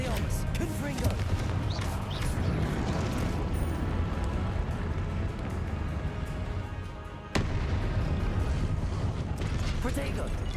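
Confringo blasting spell cast during a duel in the game Hogwarts Legacy, loud continuous booming explosions and crackling fire filling the whole stretch with a brief dip and a sharp burst partway through, dense and close.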